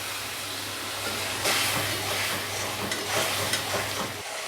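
Water poured into spices frying in a pan with sugar and Kashmiri chili powder, for an elbow macaroni dish: a steady sizzle with hissing bursts of steam, loud and close, no talk.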